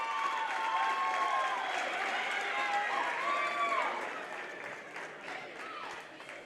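Crowd at a youth wrestling tournament quarter-final cheering and applauding after a pin, a dense sustained wash of clapping and voices that slowly fades, with commentary talk over it.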